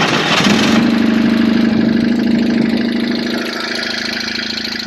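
A BMW 1150GS motorcycle engine idles steadily in neutral with a slightly tappy, ticking valve clatter, a close, loud, even rumble after a brief rev at the start.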